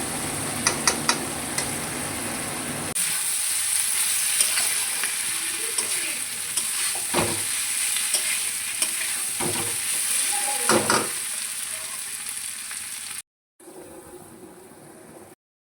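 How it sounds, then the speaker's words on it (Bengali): Jackfruit curry with onion, garlic and spices fries in a pan while being stirred, a continuous sizzle with scattered scraping strokes and a few clicks early on, cutting out abruptly near the end. "দিয়ে এখন ভালোভাবে কষিয়ে কষিয়ে এটা রান্না করবো"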